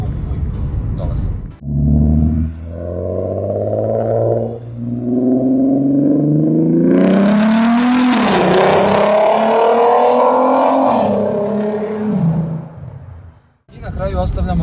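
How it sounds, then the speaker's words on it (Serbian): A VR6 3.2-litre six-cylinder car engine idles loudly and close, then revs up in a rising, growling sweep before dropping back, with a brief pause between bursts. "Svesni smo da šestak daje mnogo lepše zvukove nego motor mali od 4 cilindra."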